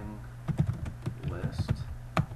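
Keys clatter on a computer keyboard in a quick burst of a dozen or so close taps while typing into a spreadsheet cell, with speech over it.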